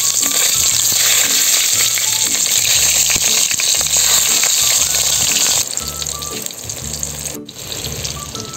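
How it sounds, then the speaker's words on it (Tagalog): Eggplant slices sizzle loudly in hot oil, a steady close crackle and hiss that drops slightly in level partway through, with no talking. "talong naman po ang ating ipiprito"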